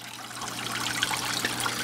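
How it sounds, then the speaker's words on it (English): Water from the waterfall on a 125 aquarium in a fish room trickles and splashes steadily, a continuous bright bubbling wash heard close and alone. "Let me get over here and stand over in front of the waterfall."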